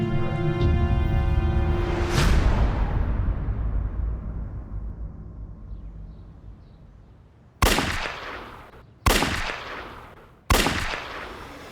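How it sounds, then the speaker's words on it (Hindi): Three sharp gunshots crack out in a TV crime drama scene, spaced a second or so apart after a long swelling dramatic sound fades down; each report is loud and close with a brief decaying tail. "सर, पड़ोसी ने 3 गन शॉट्स की आवाज सुनी है।"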